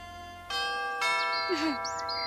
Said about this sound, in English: I shall ring the bell